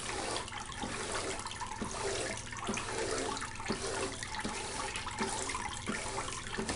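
Water runs steadily across a fine gold recovery water table, a continuous close splashing flow with faint rhythmic pulses and no talk.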